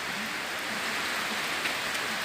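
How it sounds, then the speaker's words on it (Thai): Rain falls steadily on a cattle farm in rural Thailand, a dense, even hiss of drops close by with no voices. "กับบรรยากาศฝนตกด้วยพี่น้องเด้อ"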